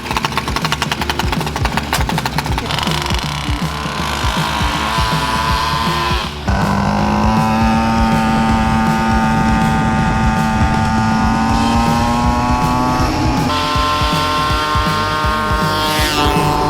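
A small carbureted engine on a home-built vehicle runs steadily and loud throughout, with a buzzy, rough idle and a slight rise in pitch partway through, alone with no talk.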